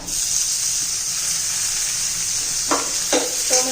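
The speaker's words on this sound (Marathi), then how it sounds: "कांदा झालेला आहे आता टोमॅटो घालून घेऊया" Tomatoes go into a pan of frying onions, giving a steady close sizzle and hiss throughout, with a few stirring scrapes near the end.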